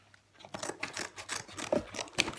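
Scissors cut a small piece off craft material during a sunflower art project, making several close, soft snipping sounds.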